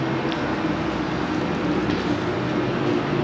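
Makkasan Airport Rail Link train arriving at a station, a steady, moderately loud rumble and hum of wheels and motors with faint squeals and no clear speech.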